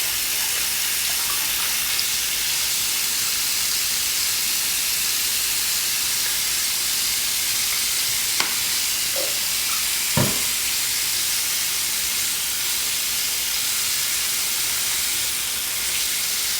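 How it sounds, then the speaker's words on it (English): A steady, loud hiss of water from a running tap pours over a handful of makeup eye brushes being rinsed, continuous and close, with a few small clicks and knocks, and no speech. "my eye brushes, I just grab a handful and rinse them."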